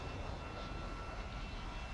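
A jet engine drones steadily from an enemy plane closing in behind an A-10 in a flight video game, a faint continuous roar with no talk.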